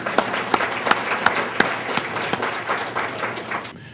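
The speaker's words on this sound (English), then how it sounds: "A round of applause for all of you." Conference audience at a neighborhood best practices event applauding, a full wash of clapping with sharp individual claps popping out near the front before it cuts off abruptly.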